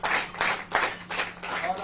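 A church congregation claps to welcome a preacher, a steady burst of hand clapping with uneven swells that fills the whole short stretch, fairly close.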